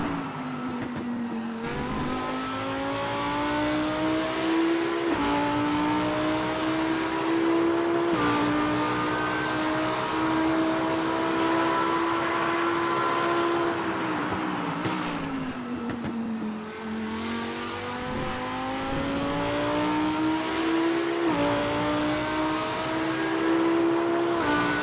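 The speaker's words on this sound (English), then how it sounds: "you can immediately recognize the typical sound of the GT3 Lambo" Lamborghini Huracán GT3 Evo2 race car engine in the RaceRoom racing game, loud and continuous, with rising revs through the gears, brief drops at each upshift and downshifts around the 15-second mark, with no talk.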